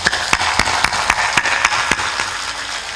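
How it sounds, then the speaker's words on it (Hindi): An audience at a spiritual discourse claps together with hands raised overhead, rhythmic, fairly even claps about every quarter second over a bed of general crowd noise. "ऊपर ऊपर ताली बजाते हैं"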